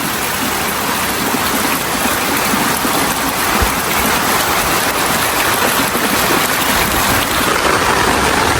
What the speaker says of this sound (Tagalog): grabe po ang ulan, kalakas.